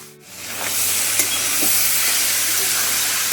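Boiled banana blossom hits a hot pan of spice masala and sizzles in a loud, steady hiss after a brief quiet start, with a few soft stirring clicks over the frying.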